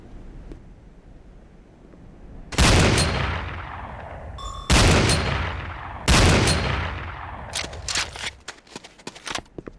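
Weapon secondary fire in C&C Renegade: three loud, close blasts spaced a second or two apart, each with a long decaying tail, followed by a quicker cluster of sharper shots.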